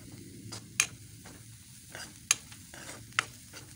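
Masoor dal frying in oil on a gas stove while being stirred, with soft sizzling under a series of sharp spoon scrapes and clinks against the pan, several spaced strokes close by.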